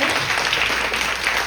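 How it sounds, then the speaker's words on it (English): An audience at a women-in-AI panel event claps for the panel, a brief, loud, continuous burst of many hands with no pause. "Please, a round of applause for our panel."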